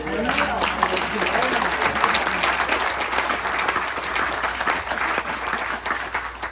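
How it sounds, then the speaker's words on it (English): An audience at a 50th anniversary keynote applauds, steady dense clapping that stays loud and even throughout with some crowd noise mixed in. "And so another round of applause for Amy for"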